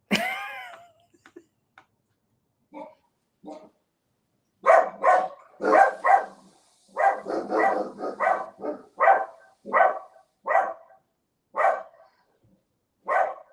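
Dogs at home bark in loud, close bursts, first a few scattered barks and then a steady run of repeated barking with brief gaps.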